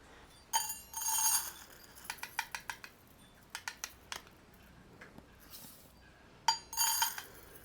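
A spoon stirs uncooked rice into a chicken and rice casserole in a dish, giving irregular clinks and scrapes in short bursts, some louder, others quick light taps, with no talk.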